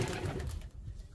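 A small bird calls indoors in a room of a house, giving a brief, fairly close, soft burst that quickly fades into quiet.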